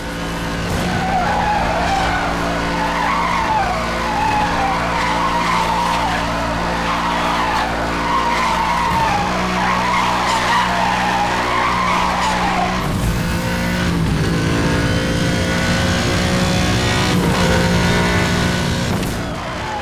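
A race car drifts through a corner in the snow in Need for Speed Hot Pursuit Remastered, with loud continuous tire squeal and a sustained engine roar across the whole stretch. A sharper skid shift comes near the end.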